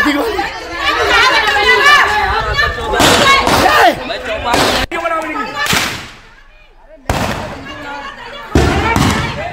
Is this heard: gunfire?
yes